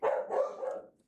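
A dog barks indoors, one short close bark trailing into a couple of softer follow-up woofs within about a second, with no talking over it.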